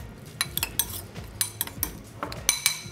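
Ingredients for a restaurant dessert are mixed in a bowl, with a utensil scraping and clinking against it in quick, irregular strokes close up.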